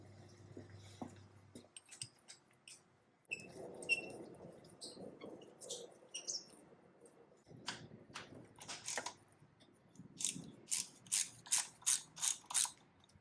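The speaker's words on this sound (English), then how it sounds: "now I'm gonna loosen the triple tree down here and up here" A hand ratchet clicks in quick bursts while loosening the triple tree bolts on a 1989 Yamaha Radian YX600 motorcycle, the strokes close and crisp with short pauses, ending in a fast run of sharp clicks.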